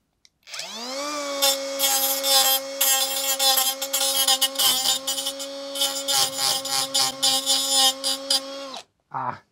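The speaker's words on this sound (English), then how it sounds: "This is the world's worst angle grinder." A small, weak angle grinder cuts out a tiny spot weld on the metal body of an A112 Abarth while vandalism damage is being repaired. It gives a loud, close, steady whine that spins up, then rasps and screeches in pulsing bursts before stopping.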